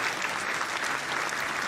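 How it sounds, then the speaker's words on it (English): Soundboard applause played during a bourbon-tasting livestream, a short burst of dense, even clapping at constant level with no voices. "Get a little applause here for Sugar Kitty."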